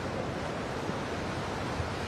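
Surf breaking at the Pipeline surf break during a surfing contest, a steady broadband wash of waves with wind noise, fairly loud and continuous, no voices.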